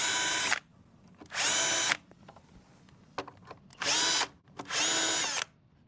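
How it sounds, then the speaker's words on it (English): A power drill with a center drill bit whirs in four short bursts, each about a second long, pre-drilling holes for a drawer slide, with quiet pauses and small clicks and knocks between them. "pre-drill the correct holes using the center drill bit"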